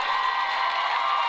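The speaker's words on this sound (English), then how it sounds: "ovation from the Hill City Ranger crowd here" A home crowd at a Hill City Rangers high school basketball playoff game gives a steady ovation as a player checks out, a short, even burst of clapping and cheering.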